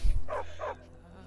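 A dog in Skyrim giving two quick close barks in succession, loud and short, after a brief low thump, then fading into quiet game ambience.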